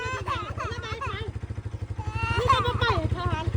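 A motorcycle engine putters in a rapid, even rhythm nearby while several people talk over it.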